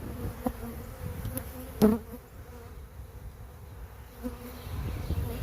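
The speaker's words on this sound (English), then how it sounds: "Can you see the bees marching?" Honey bees from a newly installed package buzzing as they march into a hive, a steady close drone with a few brief louder passes of individual bees, no talk.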